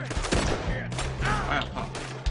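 Gunfire in the video game Red Dead Redemption 2, a dense, loud burst of repeated shots over music and game sounds, with voices mixed in.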